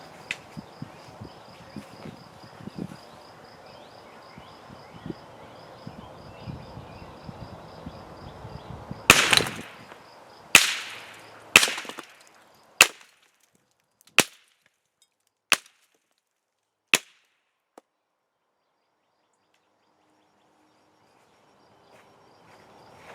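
Seven sharp .22LR gunshots from CCI Standard Velocity ammunition fired at plaster mold targets about 35 to 40 yards away, spaced a second or so apart and each ringing briefly outdoors, followed by near silence.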